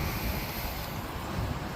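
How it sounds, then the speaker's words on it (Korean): A strong, steady rush of high water flowing past an ancient stone bridge in a stream swollen after recent snow, a continuous close, even roar with no voices. "물이 쭉 흐르는 소리가 들리죠."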